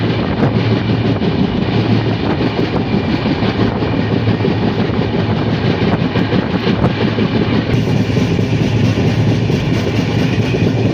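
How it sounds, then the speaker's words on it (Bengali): A moving train bound for Mumbai rumbles loudly and continuously through hills and forest, with rattling carriage noise and wind buffeting the microphone throughout. "এখন আমরা এই ট্রেনে যাচ্ছি"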